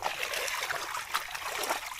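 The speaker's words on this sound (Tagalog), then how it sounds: "Yan, laki ng tubig." Irrigation water trickles and flows into a rice paddy field, a soft, steady splashing burble heard up close but fairly quiet, with no voices.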